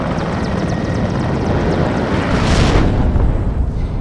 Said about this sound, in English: Let's look at that beautiful helicopter though.